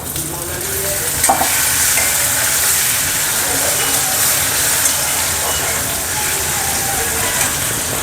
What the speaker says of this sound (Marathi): आता हळद टाकते आणि हा टोमॅटो.